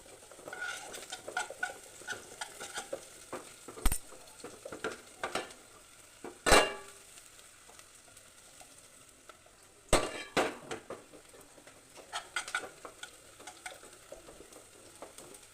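Onions fry in a pan on a gas stove with a soft continuous sizzle, broken by a few sharp close clanks of a utensil against the pan.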